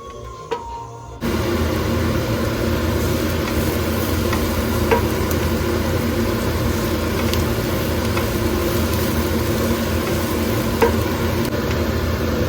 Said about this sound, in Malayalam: ഇതിനെ ആദ്യം ഒന്ന് ഡ്രൈ റോസ്റ്റ് ചെയ്ത് മാറ്റി വെക്കാൻ വിചാരിച്ചു